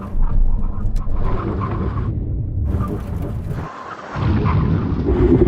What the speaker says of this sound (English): Now we're going for a brake test from 70 miles an hour.